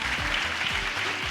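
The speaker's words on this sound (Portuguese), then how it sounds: "salva de palmas para ela" Audience applause at a Brazilian design conference on content writing and ethics, a steady broadband wash of clapping for a speaker taking the stage, loud and continuous over a low hum for the whole brief moment.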